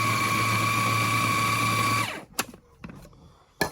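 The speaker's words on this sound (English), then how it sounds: "we're going to grind that up real nice." A kitchen machine grinds ingredients for blackened sea bass, a loud steady whirring motor hum for about two seconds that cuts off abruptly, followed by a few sharp clicks and clatters of handling.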